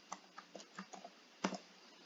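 Keys on a computer keyboard are typed in a quick run of soft, separate taps, a brief pause, then one or two stronger presses, heard near and alone.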